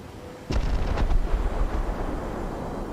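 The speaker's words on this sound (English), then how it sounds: "And bombs away on the ADATs." Bombs dropped on ADATS air-defence vehicles in the War Thunder video game go off in a sharp blast followed by a second, heavier boom, then a rumbling decay.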